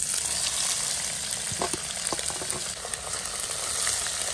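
Finely chopped onions frying with cashews in a pan, a loud, dense and continuous sizzle with a few faint stirring scrapes in the middle.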